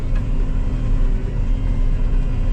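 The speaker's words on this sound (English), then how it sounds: "I'm just gonna take the combine up to the farmyard for now" A combine harvester engine runs steadily on a farm, a loud continuous low rumble and drone with no pauses and no talk.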